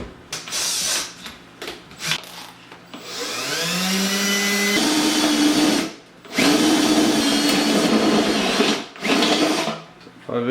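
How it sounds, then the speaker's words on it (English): A power drill with a step bit bores through a steel surplus ammo can, whining loudly as it rises in pitch under load, with short pauses between bursts and brief talk between them. "I think this step bit will suffice for the hole."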